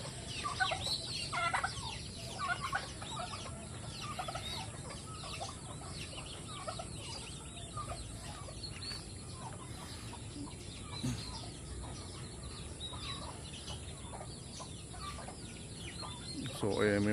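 Chickens cluck softly on a farm alongside breeder-size turkeys, with scattered short calls and faint gobbling against a quiet outdoor background, fairly distant and low in level.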